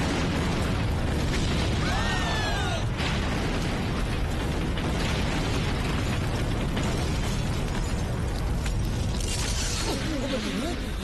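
A bomb concealed in a hotel cake box blows up in a Telugu comedy film scene, a dense sustained blast and rumble filling the whole stretch at high level, with voices faintly underneath.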